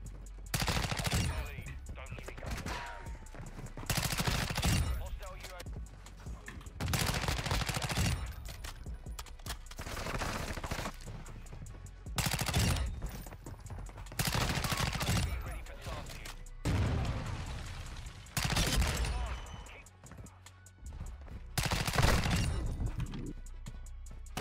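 Rapid bursts of SMG gunfire from Call of Duty MW2, loud and repeated in short volleys separated by brief gaps throughout.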